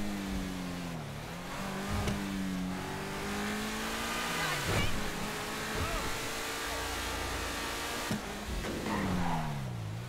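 A car engine in the video game GTA 5 revs and accelerates through rising and falling gear pitches, with brief tire squeals, under a player's occasional talk.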